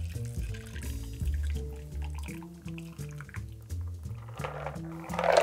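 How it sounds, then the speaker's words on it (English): A Sex On The Brain cocktail trickles and splashes through a Hawthorne strainer into a glass in a thin, steady pour under background music. "and what we'll do is we'll just pour it in like so."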